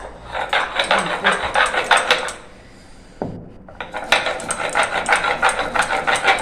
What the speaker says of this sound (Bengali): আগে মৌরিটা বেটে নিই, তারপরে এই আদা লঙ্কা